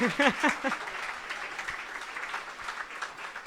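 Applause from an audience at an astronaut radio contact event continues as a steady, moderately faint patter of clapping, with a brief voice at the start.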